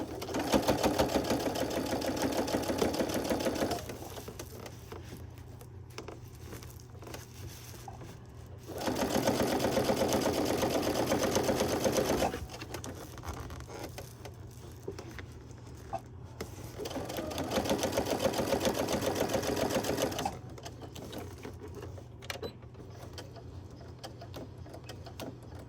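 A sewing machine stitches a farmhouse-style pot holder in three separate bursts of steady whirring, with quieter handling and adjusting between runs.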